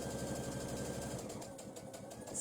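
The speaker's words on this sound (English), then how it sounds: "I quite often just stitch across that end and then carry on just stitching down" A sewing machine stitching across and down a fabric strap for a luggage label, running as a quiet continuous rapid whirr with a steady mechanical pulse, nothing else heard.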